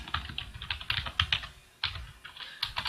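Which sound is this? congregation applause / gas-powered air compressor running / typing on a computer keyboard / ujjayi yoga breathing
typing on a computer keyboard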